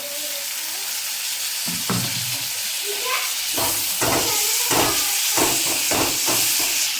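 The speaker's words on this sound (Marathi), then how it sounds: "आता आपलं टोमॅटो आणि मसाला व्यवस्थित परतून झालाय" Tomatoes and masala sauté in a hot pan for a village-style ridge gourd curry, a steady loud sizzle broken by scraping stirs and clanks of a spoon against the pan.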